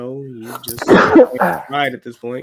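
A single sneeze bursts out in the middle of casual conversation during a fantasy football preview, with close voices talking just before and after it.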